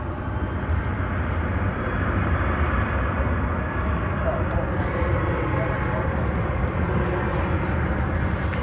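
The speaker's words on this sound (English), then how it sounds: "coming in from Wichita, Kansas, is this Airbus A319, American Airlines" An American Airlines Airbus A319 arriving from Wichita, Kansas, at DFW Airport gives off a steady, broad engine rumble and roar that holds at an even loudness.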